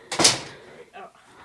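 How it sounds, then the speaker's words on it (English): A door swinging shut in a radio studio with a solid thud and brief rattle, close and fairly loud, followed by a faint settling knock. "I'll close the door"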